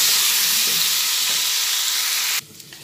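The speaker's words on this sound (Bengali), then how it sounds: "পটলটাকে আমি ভালোভাবে ভেজে নেব" Pointed gourd pieces frying in a pan with turmeric and salt give a steady, loud sizzle and crackle of hot oil that cuts off abruptly near the end, leaving only faint background noise.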